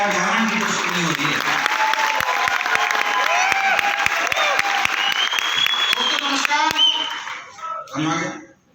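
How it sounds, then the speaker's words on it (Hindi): Loud audience applause and cheering at a seminar, a dense crowd clapping with rhythmic beats, excited voices and music underneath, then tapering off near the end. "जोरदार तालियां होनी चाहिए।"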